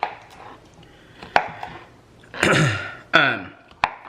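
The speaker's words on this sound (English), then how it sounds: "just chop up your sausage" Sausage being chopped on a board with a knife for a one-pot pasta dinner, several separate sharp chops spaced unevenly and heard close, with a couple of heavier strokes near the end.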